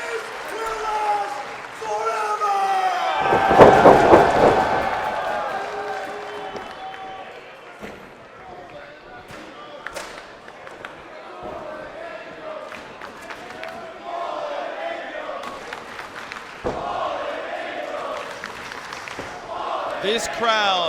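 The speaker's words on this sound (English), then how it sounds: "This crowd, out of total respect for the career of Christopher Daniels, has just broken into a fallen angel chant." A Ring of Honor wrestling crowd breaks into a loud chant for Christopher Daniels, rising into a big rhythmic roar with cheering and clapping, then settling into a steadier crowd murmur with scattered shouts while a commentator talks over it.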